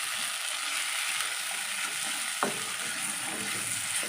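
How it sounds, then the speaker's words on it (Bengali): Spices and chili powder frying in oil for an egg curry, a steady bright sizzle with a single sharp scrape of a spatula against the pan partway through. "এবারে দিয়ে দেবো ছোটো চামচের 1 চামচ লঙ্কা গুঁড়ো, দিয়ে এবার ভালো করে কষে নেবো।"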